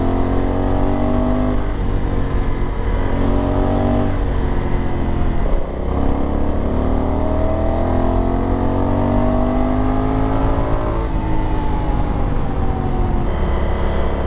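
Honda Africa Twin 1100 motorcycle engine while riding, a steady loud drone that rises and falls as it accelerates and shifts gears, with wind rush behind it and no talking.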